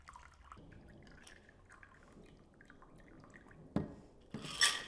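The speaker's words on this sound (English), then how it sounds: "strain it into our goblet." A frozen absinthe cocktail is strained from a frosted shaker into a goblet: a low trickle of liquid and ice runs steadily, ending in a few sharp clinks and a bright splash near the end.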